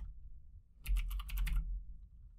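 A short burst of rapid keystrokes on a computer keyboard, about a dozen quick clicks in under a second, quiet and close over a low background hum.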